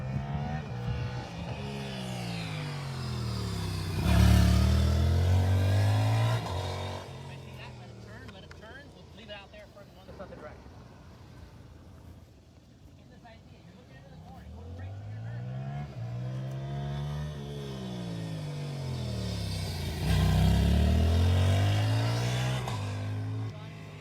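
A motorcycle accelerates on a race track at New Jersey Motorsports Park, the engine note rising in two loud swelling passes near the start and end. A person talks throughout, over the engine.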